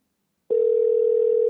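A telephone call ringing through: silence, then a single steady ringback tone switching on and holding loud and clear to the end, with no speech.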